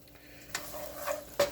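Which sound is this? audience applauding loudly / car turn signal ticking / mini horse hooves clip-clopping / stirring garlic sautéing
stirring garlic sautéing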